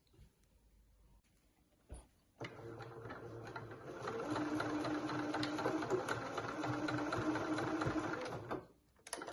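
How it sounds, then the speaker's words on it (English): A sewing machine stitches fabric to secure a tube end for an eye mask, a short burst at first, then a steady rapid whirring run of about six seconds that stops abruptly, heard alone. "I'm just going to sew that there to secure it on the one end"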